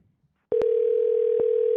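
Steady telephone tone sounding on a call-back attempt, one continuous pitch starting abruptly after a half-second of silence, with two short clicks layered over it.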